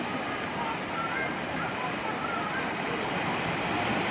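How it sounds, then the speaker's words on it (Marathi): Floodwater from a stream swollen by heavy rainfall rushes past a bridge in Chiklathan, a dense, constant roar of churning water filling the scene, with faint voices buried beneath. "चिकलठाणे येथील खोखरीला खूप मोठ्या प्रमाणात पाणी आलेले आहे।"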